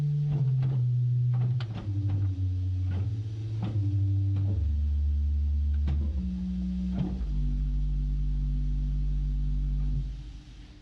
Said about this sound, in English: on English organs usually the bourdon refers to the 16-foot pitch stopped diapason. It sounds like this.